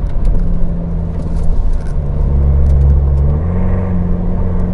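A Mitsubishi Pajero SUV taking a sharp turn, its engine droning steadily from inside the cabin with shifting tones as it changes speed, loud and close with no talk.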